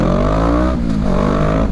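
Kawasaki ER6N motorcycle fitted with an Akrapovic exhaust, revving close by with a deep, throaty twin-cylinder roar that dips briefly between pulls and climbs again, loud and alone.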